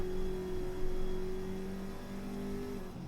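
A Subaru engine in the racing game Forza Horizon 5 holds a steady, loud mechanical drone with a mild rise in revs. The sound is close and there is no talk.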